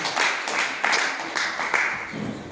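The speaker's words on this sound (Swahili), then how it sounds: "Pigie Bwana Yesu makofi mengi." A church congregation claps during a Wednesday evening service, a steady, loud, fairly rhythmic round of applause that carries through the whole stretch.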